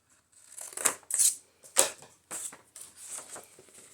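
Scissors snip a small triangle out of vintage paper for a sewing journal, giving several crisp, close cuts with short pauses between them and no talking.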